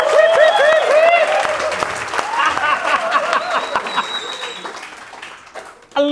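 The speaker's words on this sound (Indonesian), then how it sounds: "Orang belum dikasih tanda, dia tepuk tangan gitu ya" An Indonesian podcast studio audience bursts into loud applause that starts strong and then thins out, with voices and laughter mixed in, before a sharp jolt at the very end.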